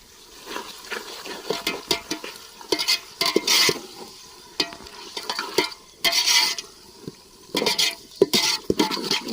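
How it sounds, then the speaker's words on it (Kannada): Onion with ginger-garlic paste frying in a pan for soya biryani, a steady close sizzle broken by repeated scraping strokes of a stirring spoon, louder bursts coming in irregular clusters with no talk. "ಈರುಳ್ಳಿ ಮತ್ತೆ ಶುಂಠಿ ಬೆಳ್ಳುಳ್ಳಿ ಪೇಸ್ಟ್ ಎರಡು ಫ್ರೈ ಆಗಿ ಪರಿಮಳ ಬರ್ತಾ ಇದೆ."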